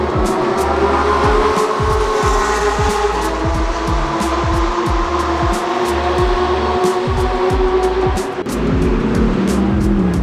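A Tesla Plaid electric car laps the wet COTA Formula 1 circuit, a steady motor whine rising and falling, tires hissing over the surface, loud and close throughout.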